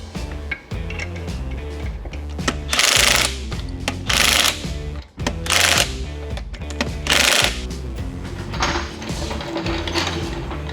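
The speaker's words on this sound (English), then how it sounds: "I still got to torque those rear lug nuts too." Rapid ratcheting clicks and clanks from a torque wrench tightening the rear lug nuts on a 7.3 Ford Excursion, close and loud, in several bursts separated by brief pauses.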